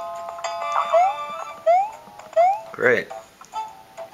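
An alarm clock item in the Paper Mario Sticker Star video game sounds a short sequence of bright rising chimes and jingles, with a brief rattling ring in the middle, while a person speaks briefly over it.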